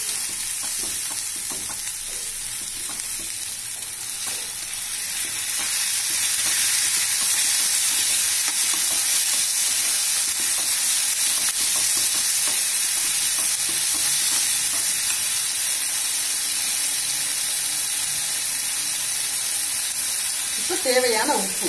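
Ground tomato paste hits a hot pan for tomato rice and keeps sizzling while being stirred, a loud steady hiss with rhythmic scraping strokes building up and holding through the whole stretch.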